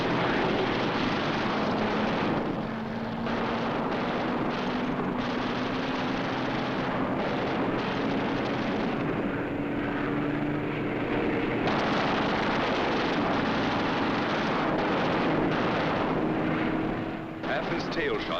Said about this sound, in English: A B-17 catches fire and goes down in flames.